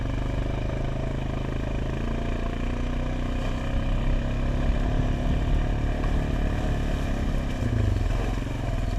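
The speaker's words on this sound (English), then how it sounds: "Ooh, that's driving over that." An ATV engine drones loud and close as the quad climbs and drives over a fallen tree on a trail, the revs rising and dropping slightly with rough clattering underneath.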